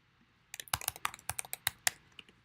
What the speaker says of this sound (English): go ahead and type that in right there